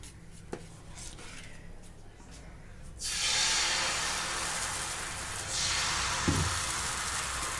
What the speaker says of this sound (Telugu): భలే సౌండ్ వస్తుంది దోశ వస్తే